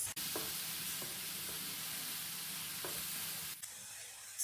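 Laddu batter dry-cooking in a pan, a faint, steady low sizzle and hiss that runs throughout, broken by a few soft spatula taps.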